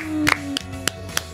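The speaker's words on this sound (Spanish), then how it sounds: "Un aplauso para ellos, que solo voy a aplaudir yo." A single person claps hands four times at a steady, unhurried pace, each clap sharp and close, over a faint steady hum of a room.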